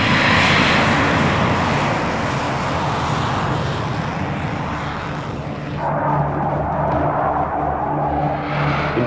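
A Blackburn Buccaneer jet aircraft's engines give a loud, continuous roar that eases slightly partway through and then settles into a steady, lower drone.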